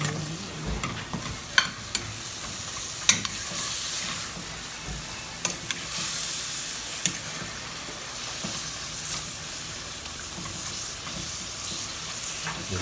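Vegetables stir-fried in a hot pan give a steady broadband sizzle, broken by sharp clicks and scrapes of a utensil against the metal, close and continuous with no voices.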